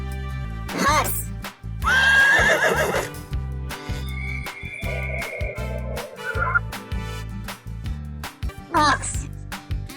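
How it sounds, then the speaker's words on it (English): A farm horse gives a loud, drawn-out whinny over a bouncy music track, with a voice speaking briefly nearby. "Horse."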